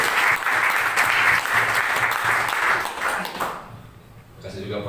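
A congregation at a Christian training session applauds, with sustained, fairly loud clapping that fades out near the end as a voice begins speaking.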